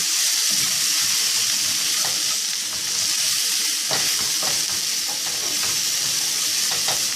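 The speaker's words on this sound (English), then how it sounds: "And then now, let's stir." Eggplant sizzles steadily as it fries in a pan, with a dense continuous crackle throughout and occasional scraping clicks from stirring.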